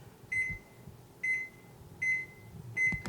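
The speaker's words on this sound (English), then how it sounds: "I'm going to set the timer for 25 minutes." An oven timer being set for baking bread emits four evenly spaced electronic beeps, clear and close against a quiet kitchen background.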